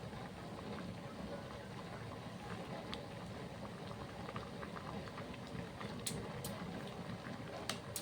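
A pot of Thai khilek curry bubbles on a steady rolling boil, a dense continuous simmering hiss with occasional sharper pops toward the end, heard alone without talk.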